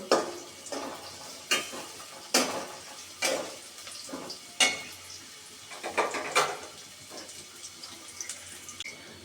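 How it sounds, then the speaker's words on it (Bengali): Onions fry lightly with cardamom, cinnamon, bay leaf, cloves and cumin for a beef and potato curry, as a spoon scrapes and stirs the pan in sharp, irregular strokes over a faint sizzle. "আমার পেঁয়াজগুলো এরকমভাবে ভেজে নিয়েছি ঠিক এরকমভাবে হালকাভাবে ভেজে নিতে হবে"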